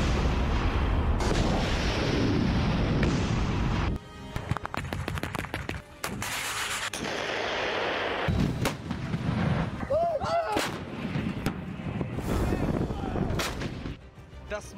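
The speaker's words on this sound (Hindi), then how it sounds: "डोनेट नदी पर बने इस पुल को यूक्रेन ने तोपों से हमला करके उड़ा दिया।" Artillery shelling a bridge over the Donets river in the war between Russia and Ukraine, heavy booming blasts and sharp cracks over a loud continuous rumble, close and intense, with a brief whistling sound midway.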